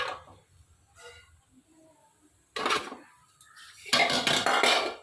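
Steamed rice dumplings for a Vinayaka Chaturthi festival meal are set into a metal cooking vessel in a home kitchen, with a few close clinks and scrapes of utensils and pots in short bursts amid quiet pauses.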